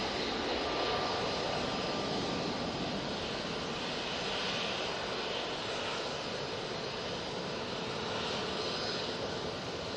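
Steady, sustained jet roar from a TUI Boeing 737-800 airliner at Manchester Airport, heard at a moderate distance with no talking.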